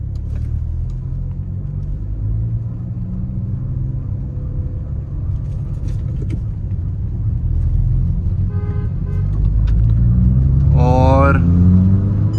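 Two cars, a VW Virtus GT and a Skoda Laura 1.8 TSI, drag race from a rolling start in second gear with the Skoda's manual gearbox. Steady engine drone and low road rumble build louder toward the end, with a brief horn-like toot and voices talking throughout.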